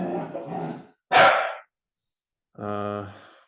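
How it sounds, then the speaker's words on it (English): Dogs bark and growl indoors in short outbursts: a harsh, breathy bark, then after a pause a longer tonal growl or whine, close and loud, with a voice audible at the start. "Bro, my dogs."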